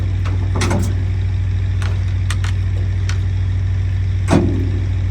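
A 1972 GMC Jimmy engine with headers and quiet mufflers idles steadily after sitting 20 years, a low constant rumble broken by a few sharp clicks and knocks.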